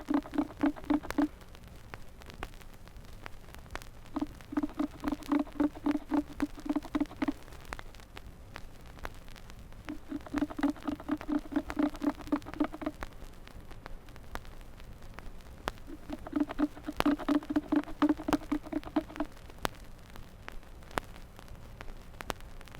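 A beaver gnawing on wood in repeated bursts of rapid rasping scrapes, four clusters each lasting a couple of seconds with pauses between, close and alone over faint background hiss.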